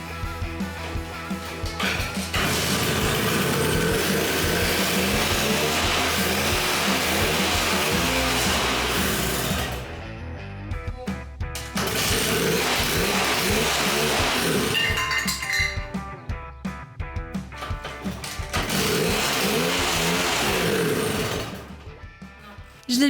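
A 1954 Lambretta LD scooter engine runs and revs loudly and steadily for long stretches, then cuts out twice into brief quiet gaps before catching again, close by with no talking.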